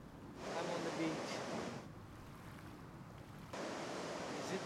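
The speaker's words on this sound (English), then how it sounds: "I'm on the beach." Beach waves wash in broad surges of noisy surf, one rolling swell followed by a quieter lull and another rising wash, close and steady without voices.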